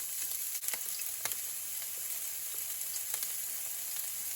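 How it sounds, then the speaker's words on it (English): Onions, garlic and a sprig of thyme sautéing in oil in a very hot pot: a soft, even sizzle, fairly quiet, broken by a few faint crackles and ticks, with no speech. "To the oil, I'm going to add some onions, garlic, and a sprig of thyme."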